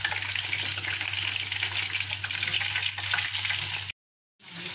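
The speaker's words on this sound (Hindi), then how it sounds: "साथ में मैंने फ्राई करने रख दी हैं यहाँ पर चिप्स" Potato chips deep frying in hot oil for a homemade crispy chicken zinger burger, a steady dense sizzle with a low hum underneath, continuous for about four seconds before a brief cut to silence and a return.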